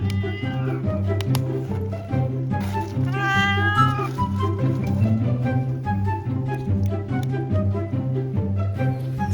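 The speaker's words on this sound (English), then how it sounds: "So now the cat keeps following us." A cat following pilgrims on the Camino Francés to Santiago gives several clear, close meows, some drawn out and wavering, over a steady low hum of background noise.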